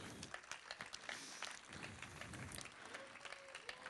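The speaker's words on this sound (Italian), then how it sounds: "fatelo l'applauso perché è giusto che sia così" Applause from a crowd at the Festa dell'Unità in Rome during an onstage interview, a dense steady patter of many hands clapping at moderate distance, with faint voices underneath.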